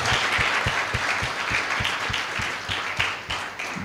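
A church congregation clapping together in a steady rhythmic beat, roughly three claps per second, with a wash of crowd noise behind the claps and a faint voice.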